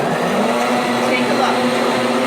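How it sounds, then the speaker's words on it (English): A Blendtec blender on its third speed setting churns cream toward butter, a loud, steady motor whine with a strong constant hum, running continuously without pause. "I'm going to actually go on the third setting here on my blend tech and just let it run"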